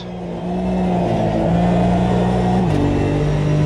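A 3.8 liter flat-six race car engine in the sim game AMS2 pulls hard in a steady tone, climbing through a gear change or two, loud and close with no voices.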